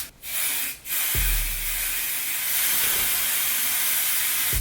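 Instant hair color sprays onto hair in long, close hissing bursts, with one brief break early on before the spray continues.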